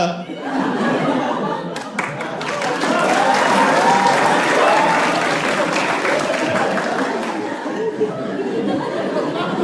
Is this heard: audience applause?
yes